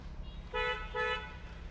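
Two short car horn honks in quick succession, moderately loud over a low engine rumble.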